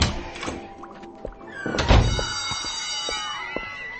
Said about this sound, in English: Heading through door X.